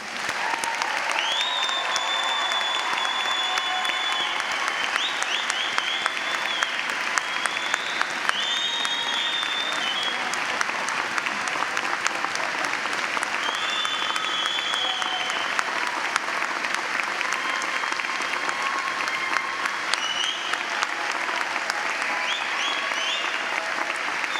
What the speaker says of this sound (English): Please join me in congratulating all of our graduates with a round of applause.